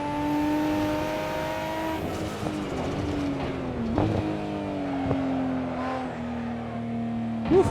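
A Nissan Skyline GT-R R34 at the Nürburgring in the racing game Assetto Corsa, its engine revving high with rising and falling gear pulls and a few shifts, loud and continuous.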